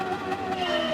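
A race car engine in Gran Turismo 7, fitted with high-lift camshafts, drones at a steady pitch, faint and continuous with a slight rise.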